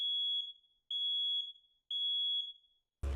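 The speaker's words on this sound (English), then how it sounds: "the smoke alarm got too annoying" Indoor smoke alarm set off by cooking fires, sounding three evenly spaced, piercing high beeps, each lasting about half a second, loud and alone with no talking.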